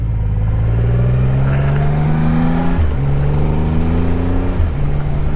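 A Triumph Rocket 3 GT motorcycle accelerates hard, its engine note climbing loud and close through two gear changes with brief dips between rising pulls.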